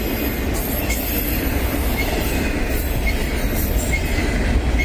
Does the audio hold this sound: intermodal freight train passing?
yes